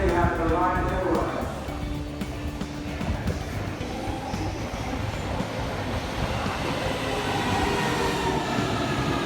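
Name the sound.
train interior while riding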